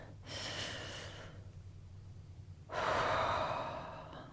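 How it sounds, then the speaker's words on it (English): Slow, deliberate breathing exercise: a long drawn breath fading after a second, a pause, then a second louder breath starting near three seconds, close and alone with no talking. "So step 1 is to breathe."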